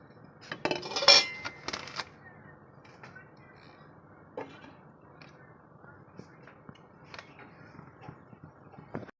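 A metal lid clatters onto a cooking pot of young jackfruit with chana dal: a cluster of loud, close clanks and rattles at the start, then a few faint knocks and scrapes over quiet kitchen background.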